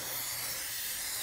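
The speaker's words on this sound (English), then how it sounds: "Before we hit the road here, we're gonna spray it on this whole panel" A can of Pam cooking spray hisses steadily onto a car body panel at a drag racing track, a close, continuous spray with no talking.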